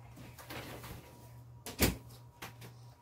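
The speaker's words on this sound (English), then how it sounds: "Let me shut my door." An interior household door swinging shut with a single sharp thud near the middle, preceded by faint rustling and movement in a quiet room.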